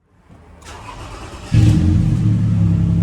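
A Toyota Alphard engine rumbles at a low idle, then the throttle is pressed and the engine note rises sharply into a loud, steady roar, despite a fault where revs will not rise.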